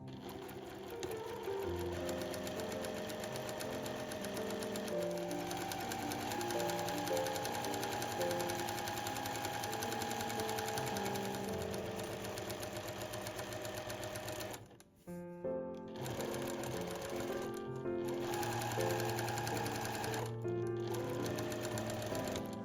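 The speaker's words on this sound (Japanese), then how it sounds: "今回も職業用ミシン SL700EX を使っていきます。" A Juki SL700EX professional sewing machine runs steadily at high speed with a dense mechanical whir, pausing briefly a few times before starting again, close by.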